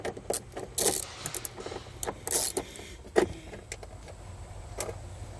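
A ratchet with a 10 mm socket loosens a body ground bolt on a 2020 Acura MDX, giving quiet, close, irregular clicks and metallic jingles in short bursts with pauses between them.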